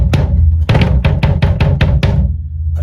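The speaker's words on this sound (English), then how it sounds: "This is a 22-inch bass drum. Sounds like this." A 22-inch bass drum struck with rubber beaters on a kick pedal, about eight deep, punchy hits with a clicky attack, played alone in an uneven rhythm that includes a quick double stroke, with a resonant low boom that lingers after the last hit.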